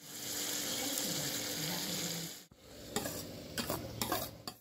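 Tomatoes and spices being stirred and fried in hot oil for chana dal tadka, a steady soft sizzle that breaks off midway, followed by scraping stirs and clinks against the pan, faint and close.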